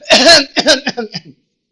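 A few harsh coughs, loud and close, the first one long and the rest trailing off quickly.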